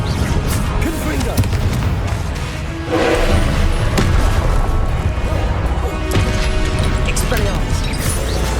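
The Confringo blast spell in Hogwarts Legacy goes off as several sharp explosive bursts over a few seconds, one stronger boom near the middle, mixed with game effects and voices.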